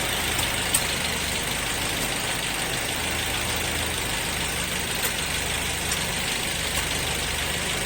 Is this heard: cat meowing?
no